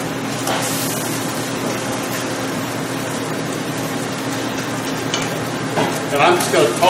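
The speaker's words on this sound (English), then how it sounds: "I'm just going to toss this pork around in our chili sauce and kind of get it just to stick to it" Pork sizzling in hot oil as it is stirred and tossed in chili sauce in a pan, a continuous close frying hiss with scraping stirs near the end and no talk.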